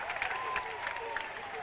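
A stadium crowd at a Tampa Bay Rowdies versus Minnesota Kicks soccer match makes a steady, distant roar with scattered clapping and cheers. It stays at a fairly even level throughout, with no talk in the foreground.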